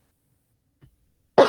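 A single sharp cough bursts out suddenly at close range after near silence, preceded by a faint brief rustle.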